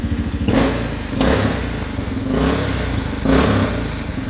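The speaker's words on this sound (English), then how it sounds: "It might be an exhaust leak right there." A 2013 Honda Rincon 680 ATV engine idles roughly with a rhythmic puffing and chuffing from an exhaust leak, pulsing about once a second, close by with no voices.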